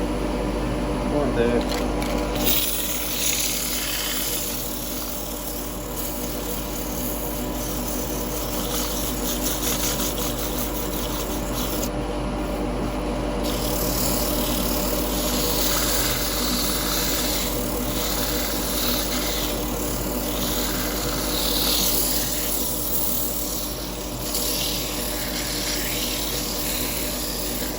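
A dust extractor running beside a wood lathe in a woodturning shop, a steady loud whirring hum with constant tonal drone throughout, while someone speaks briefly over it.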